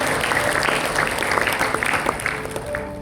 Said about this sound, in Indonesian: Kita berikan tepuk tangan yang dahsyat bagi Tuhan